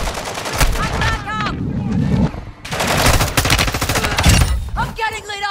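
Rapid bursts of automatic gunfire in Call of Duty Modern Warfare II, loud and close, with a brief lull in the middle and shouted voices mixed in among the shots.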